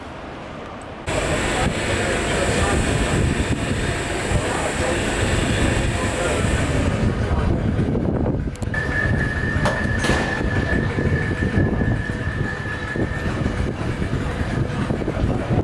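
Class 86 electric locomotive running, a loud continuous rumble and rush of a moving train with a rising whine partway through and faint voices underneath.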